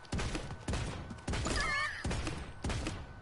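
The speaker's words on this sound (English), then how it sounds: "That's a bomb." Bomb blasts in Realm Royale come as a series of five heavy, booming thuds at roughly even intervals, each decaying into a rumble, with a faint whistling sound partway through.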